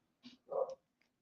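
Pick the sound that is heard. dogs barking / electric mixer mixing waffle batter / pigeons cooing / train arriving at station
dogs barking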